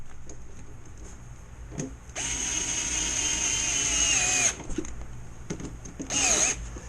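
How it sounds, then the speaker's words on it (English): A power drill whirs steadily at low speed for a couple of seconds, stops, then gives a short second burst, close by over faint background hum. "what I call slow ass drill, or an SAD"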